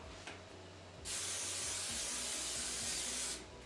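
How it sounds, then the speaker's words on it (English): Cooking spray hisses from a can into a big casserole pan in a home kitchen, one steady, close spray lasting a couple of seconds after a brief quieter tap, with no talking. "You're going to want to spray this pan."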